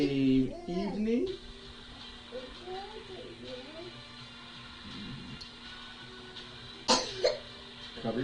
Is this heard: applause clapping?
no